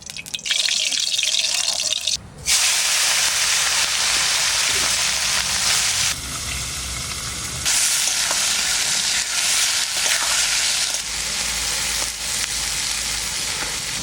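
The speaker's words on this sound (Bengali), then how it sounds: "মাছ ভাজা করব।" Fresh pond-caught morola fish fry in hot oil in a wok, giving a loud, steady sizzle and crackle that shifts in intensity as the pieces are moved.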